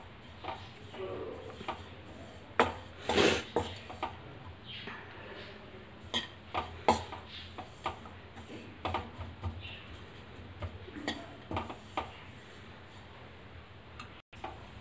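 Gram flour (besan) roasting in a pan for milk besan halwa, with a spoon scraping and tapping against the metal in scattered clinks and ticks under a voice.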